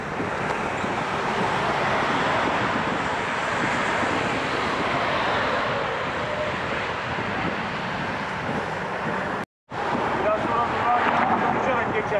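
Strong, steady wind roars across the microphone with a broad rushing noise, briefly cutting out near the end before resuming.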